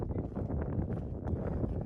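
Steady wind rushes and buffets the microphone for a couple of seconds near flamingos high in the Andes, fairly loud and unbroken, with no speech.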